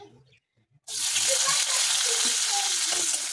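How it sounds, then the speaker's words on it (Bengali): Chopped tomato and onion dropped into hot oil burst into a loud, steady sizzle after a quiet moment, the frying hiss continuing close and strong. "তেলটা ভালো করে গরম হয়ে গেছে, এতে এবার কুচনো টমেটো আর পেঁয়াজটা একবারে দিয়ে দেবো।"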